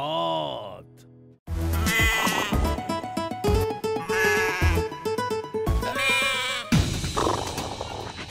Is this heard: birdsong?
no